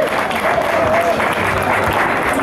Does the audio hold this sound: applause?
yes